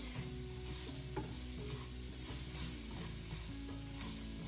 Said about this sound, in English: Got our rice nicely sauteed. We're going to go ahead and add in our onion.